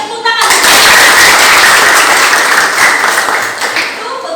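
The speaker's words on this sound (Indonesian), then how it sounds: "Tepuk tangan." Sustained applause from a classroom of students, dense steady clapping that starts abruptly and carries on loud and even for several seconds.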